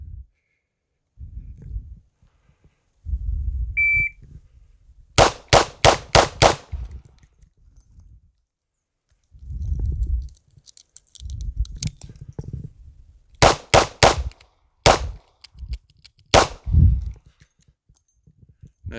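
Sharp gunshots from a Smith & Wesson 642 snub-nosed revolver with a 2-inch barrel, fired at a range from seven yards in clustered bursts of several shots separated by pauses, loud and close.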